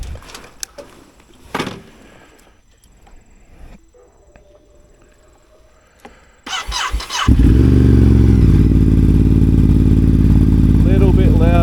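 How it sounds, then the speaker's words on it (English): A Ducati Desert X motorcycle with an SC Project decat exhaust is started: faint clicks and handling sounds, a brief crank, then the engine catches into a loud, steady cold-start idle. "Let's start her up."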